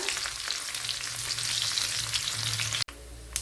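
Cut shallots sizzling in hot oil with spluttering mustard seeds for sambar, a dense, steady crackling fry up close that cuts off abruptly near the end, with no voices.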